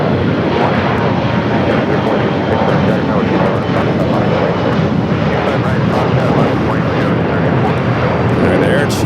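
Air China Boeing 777-300ER jet taking off from a runway at Los Angeles LAX airport, a loud, steady broadband engine roar that fills the whole stretch, with a radio voice talking faintly underneath.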